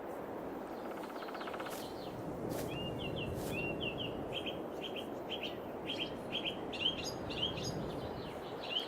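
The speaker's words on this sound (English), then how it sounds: "There's birds in here. I can hear them chirping." Birds chirp and tweet continuously in Farming Simulator 22, bright repeated calls scattered over a steady ambient outdoor bed, moderately near and clear with no talk.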